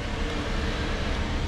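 Steady, loud construction noise from a nearby new-build site: a dense, unbroken mechanical roar with heavy low rumble that holds level throughout, with no voices.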